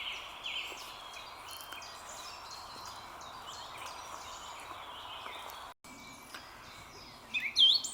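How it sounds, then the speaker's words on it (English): Birds call and twitter faintly across spring countryside, a steady scatter of distant chirps over soft outdoor ambience, with one clearer call at the end. "Birdsong is absolutely tremendous here."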